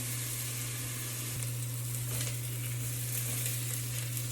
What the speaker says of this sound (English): My onion should be brown in the next 5 minutes.